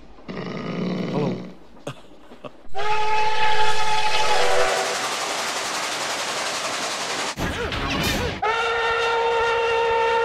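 The cracked whistle of steam locomotive NKP 587 sounds in several loud, close blasts, one short and others long and sustained, over a roaring train.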